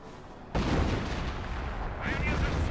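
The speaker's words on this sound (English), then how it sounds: "That's an actual barrage here. I think I hear the explosions in the background." An artillery barrage in Company of Heroes erupts after a brief quiet, with a sudden burst of booming explosions and gunfire that keeps rolling and crackling in dense, continuous bursts.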